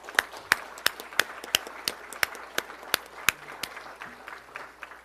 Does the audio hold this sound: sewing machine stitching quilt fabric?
no